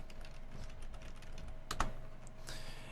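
Faint, sparse typing on a computer keyboard during a live stream, a few soft key clicks with one sharper cluster of taps midway, close to the microphone and without talk.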